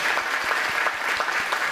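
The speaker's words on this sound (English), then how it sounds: "Let's give him a round of applause" Steady audience applause fills a recognition ceremony honoring teachers and school employees, dense and even for the whole stretch with no talk over it.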